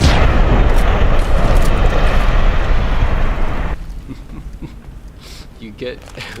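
Dense, loud explosions and gunfire from the video game Fallout: New Vegas roar continuously, then drop to a quieter rumble with scattered pops and bursts.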